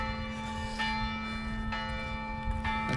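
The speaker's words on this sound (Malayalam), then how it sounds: "അങ്ങനെ ഈ പള്ളി ഓരോ മണിക്കൂറിലും ബെല്ലടിക്കും" A church bell rings the hour. The strokes are spaced about one second apart, each with a long ringing tone that carries over a steady low outdoor rumble.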